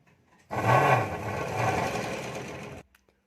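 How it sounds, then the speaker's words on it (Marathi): A sewing machine runs in one continuous burst of about two seconds while stitching the lining of a katori blouse. The motor whirs fast and close, then stops abruptly, and quiet room tone is left on either side. "अस्तर असं वरतून ठेवून आपल्याला अर्धा इंच मार्जिन सोडत टीप टाकत घ्यायची आहे"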